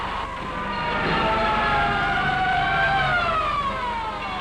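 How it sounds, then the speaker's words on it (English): Fire engine sirens wail loud and close on a city street, rising and falling in long sweeping tones layered over a steady rumble, with no talk over them. "Look, fire engines."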